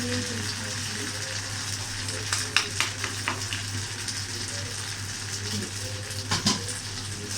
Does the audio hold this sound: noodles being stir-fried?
yes